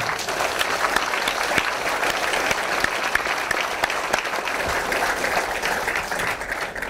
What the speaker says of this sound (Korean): 진심으로 감사와 환영의 박수를 드리겠습니다